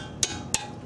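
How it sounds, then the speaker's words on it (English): Two sharp metallic heavy-hammer taps on a brake caliper bolt, spaced about a third of a second apart, close and distinct against a quiet background. "just give it a quick tap with a heavy hammer"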